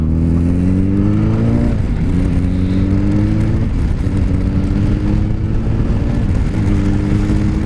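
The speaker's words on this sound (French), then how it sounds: "Regardez, une reprise à 50 en 6ème. J'accélère." A 2010 Yamaha FZ8S Fazer running on E85 ethanol pulls from low speed in sixth gear, its engine drone rising steadily in pitch, loud and close throughout, with a brief dip partway before climbing again.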